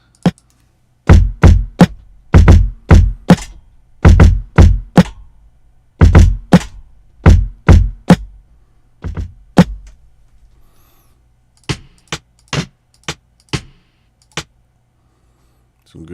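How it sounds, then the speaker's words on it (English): Dry, sharp rim shot drum samples triggered in beat-making software, a run of crisp percussive cracks in loose rhythmic bursts with short gaps, loud and close with no other sounds. "Some good fucking rim shots."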